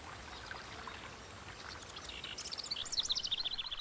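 Steady broadband water rush of a forest stream, with high bird chirps joining and growing louder toward the end.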